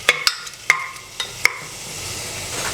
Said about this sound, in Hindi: अब हम इसमें प्याज डाल देंगे। इसको अच्छे से मिलाएंगे और प्याज को हम हल्का सा सुनहरा होने तक भून लेंगे।